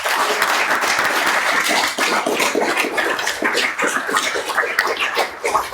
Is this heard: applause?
yes